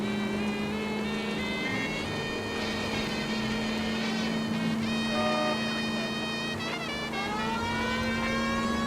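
Engine drone of a car driven in a video game, a steady, loud motor hum running throughout with shifting tonal whines and rising pitch sweeps toward the end, no talking over it.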